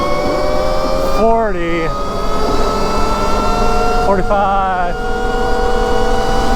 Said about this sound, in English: let's give it a top speed run, see how it does. So full throttle